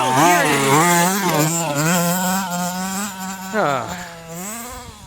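A 1/5 scale RC truck's motor is throttled, producing a loud, buzzing whine that repeatedly revs up and falls back in quick surges, close to the listener.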